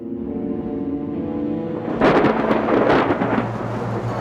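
Cartoon thunderstorm: a sustained tone gives way to a loud, crackling thunder rumble that rolls on for a couple of seconds, with no talk.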